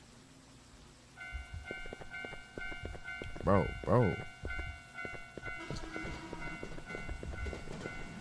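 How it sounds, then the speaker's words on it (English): A train passes in the horror game Teke Teke: Moonlit Dread, a low rumble with sustained horn-like tones and two loud swelling surges at its peak, while someone speaks briefly over it. "Oh, that's the train."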